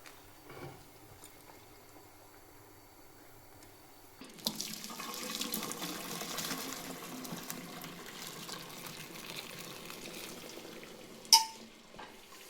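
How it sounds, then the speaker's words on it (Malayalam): Hot water draining off boiled wheat-flour noodles into a sink, a quiet room tone that gives way to a steady rushing pour of water for several seconds, ending with a brief clatter, no talking. "നൂഡിൽസ് വെള്ളം കളഞ്ഞെടുക്കാം നമുക്ക്."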